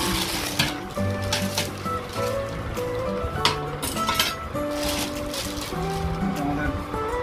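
Metal air fryer trays, including a tandoor tray and tray hanger, clink and clatter as they are handled, with repeated bright metallic knocks and rattles close by throughout.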